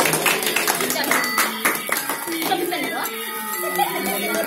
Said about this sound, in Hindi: ताली बजाइए समी, ताली बजाइए, ताली बजाइए।